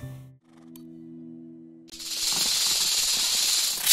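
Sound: snake hissing inside an old car, from the video game Best Month Ever!

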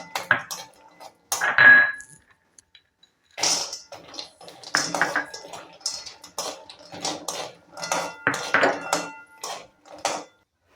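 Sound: dry fruits stirred and roasted in ghee in a kadhai

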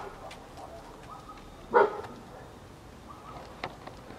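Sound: husky dog barking at air balloons

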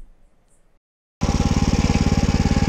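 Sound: Kissan Kraft 5.5hp mini weeder engine starting and running

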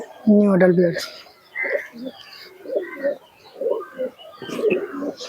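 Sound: teddy pigeons cooing

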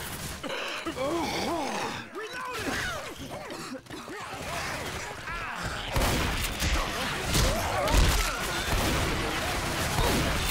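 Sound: gunfire in Left 4 Dead 2 video game

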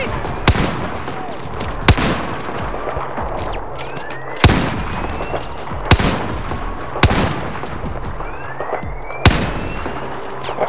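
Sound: machine gun fire in video game Battlefield 4

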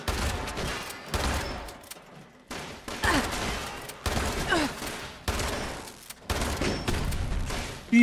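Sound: shotgun firing in the video game Fallout 76

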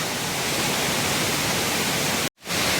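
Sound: waterfall at Mettuguda, Seethampeta

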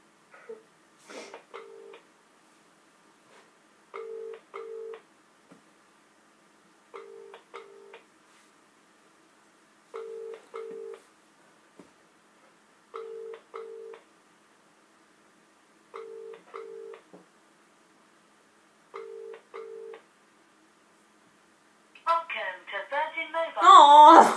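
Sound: phone ringing during a call, no one picking up

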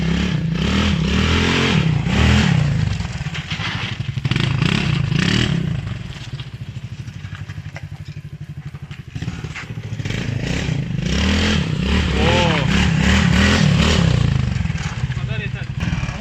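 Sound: Apachi 4x2 ATV engine running, gears shifting

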